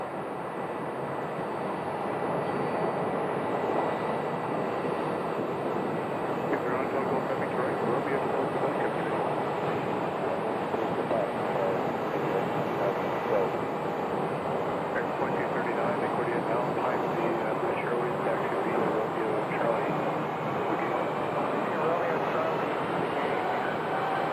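A British Airways airliner taxis to the gate at Phoenix Sky Harbor Airport, its engines a steady low jet whine and rumble at a moderate distance, with a voice talking over it throughout.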